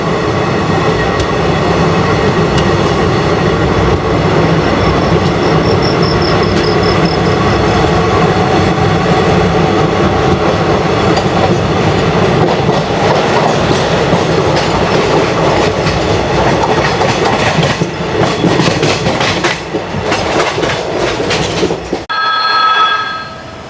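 The Vidarbha Express passenger train rolls over the rails, giving a loud, continuous rumble with rhythmic clickety-clack and occasional wheel squeal, no talking, until the noise cuts away sharply near the end.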